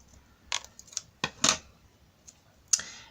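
Scissors cut a piece of material in half while crafting, giving a few distinct snips and clicks close to the microphone in an otherwise quiet room.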